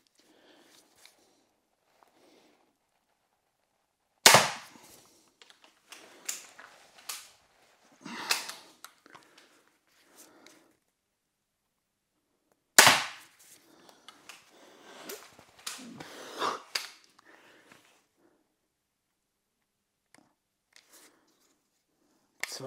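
Two sharp, loud snaps of X-BOW FMA Supersonic Tactical crossbow test shots several seconds apart, each followed by mechanical clicks and creaks of handling and reloading.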